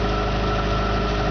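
A Subaru EJ22 engine converted into a 90-94 Vanagon idles steadily, a loud close, even mechanical hum with a low pulsing rhythm and no voices.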